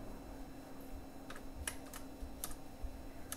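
Code being typed on a computer keyboard, sparse separate key clicks coming in small bursts over a quiet hum, with no talking.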